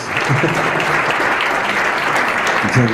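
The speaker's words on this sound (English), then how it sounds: "Now is the time for applause." A crowd applauds steadily and loudly at a Wichita, Kansas business mission event in Querétaro, a dense unbroken wash of clapping that lasts the full three seconds, with a voice briefly rising over it near the end.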